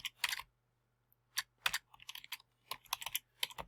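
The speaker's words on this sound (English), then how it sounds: "I take that out, right, and I type in, go under elements, I type in" Someone types on a computer keyboard in short, uneven bursts of clicky keystrokes with brief pauses between them, quiet and close, over a faint steady hum.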